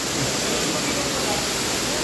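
Bukal Falls roars as a steady, loud, broadband rush of falling water, constant and close throughout, with no voices.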